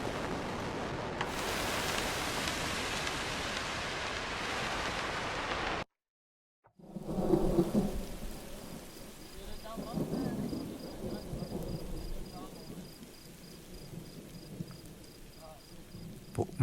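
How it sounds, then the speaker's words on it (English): A thunder preset on the Omnisphere 3 synthesizer: a broad rumbling roar of rain-like noise, then after a short silence, deeper rolling thunder swells with softer crackles, fairly quiet and sustained. "We've got some thunder stuff going on."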